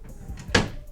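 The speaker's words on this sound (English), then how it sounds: "I'm just going to put it in a drawer." A wooden drawer or cabinet door is pushed shut with one short, close thump after a brief rustle of a small box being set inside.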